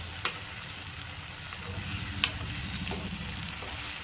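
Tomato gravy for plantain thokku fries steadily in hot oil, a soft continuous sizzle with two sharp spatula clicks against the pan, no voices present.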